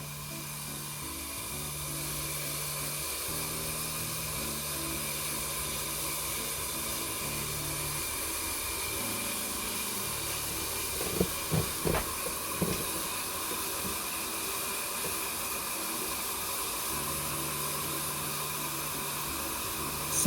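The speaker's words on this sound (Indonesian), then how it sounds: "Sudah mulai mendidih pada bagian pinggir." Water heats toward a boil in a pot on a Rinnai RI-712T gas stove burner, a steady broadband hiss and roar with the gas flame, with a few brief knocks midway.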